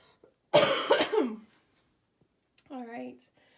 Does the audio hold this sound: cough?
yes